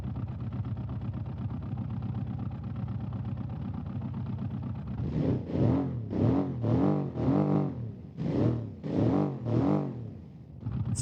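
A rear-engine, rear-drive car in the BeamNG driving game idles steadily, then revs hard in a rapid series of about seven loud, rising-and-falling bursts.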